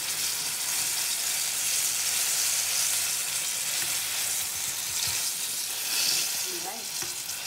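Turon filled with jackfruit frying in hot oil in a home kitchen, giving a loud, continuous close-up sizzle and crackle throughout with no talking.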